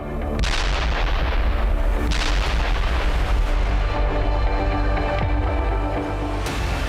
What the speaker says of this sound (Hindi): यहां हुई बमबारी का वीडियो खुद अमेरिकी राष्ट्रपति ने पोस्ट किया था